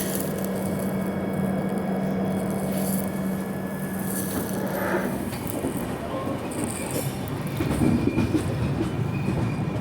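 Gitanjali SF Express passenger train running past a station, steady loud rumble and clatter of wheels on rails with a long sustained hum, occasional squeals and a louder surge near the end.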